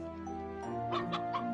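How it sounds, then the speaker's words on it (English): A chicken in the game Ys IV gives a few short clucks near the end, set over steady background music. "Sasami says cluck cluck."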